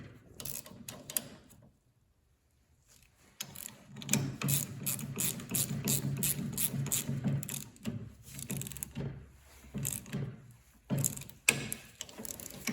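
A ratchet clicks steadily as the brake caliper bolts on a VW Bug disc brake conversion are tightened, rapid close mechanical ratcheting in runs separated by short pauses, with no speech.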